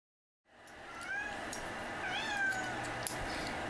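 A talkative cat meows close by in a short run of drawn-out, rising calls, alone and fairly quiet.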